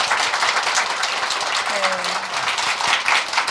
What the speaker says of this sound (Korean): 아름다운 멜로디로 힐링 스테이지 꾸며주신 김가온 씨께 다시 한번 큰 박수